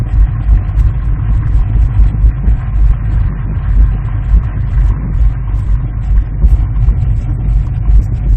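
A 1992 Saab Turbo engine drones steadily as the car drives along, a loud, continuous low rumble with slight surges in pitch as it works through the gears.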